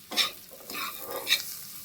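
Food sizzling in a pan while being stirred, two brisk scraping strokes standing out over a steady close frying hiss, with no talk.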